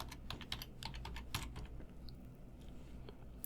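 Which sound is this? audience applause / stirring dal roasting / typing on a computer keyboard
typing on a computer keyboard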